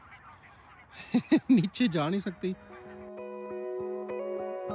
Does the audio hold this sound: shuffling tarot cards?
no